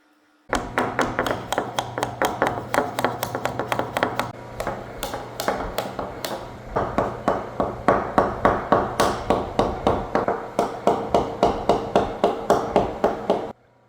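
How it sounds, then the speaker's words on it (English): A hammer taps on plastic shims to knock wax-coated epoxy dams loose from a resin pour table, a long run of sharp, evenly paced strikes, close and loud, pausing briefly midway before continuing. "With some plastic shims and a hammer, I was able to break loose the epoxy dams easily."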